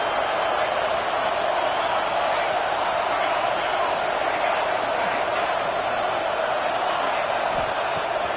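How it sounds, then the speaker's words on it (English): A stadium crowd in the college football video game NCAA 26 roars in a loud, constant wash of noise, with play-by-play commentary running over it. "Listen to this crowd just shaking the girders of this place, trying to help their defense."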